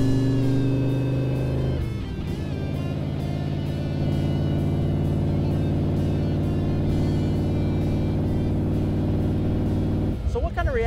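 Handmade rat rod car drives along the road, a loud steady engine drone and rumble heard from inside or close by, pitch settling after a shift near the start and changing again near the end.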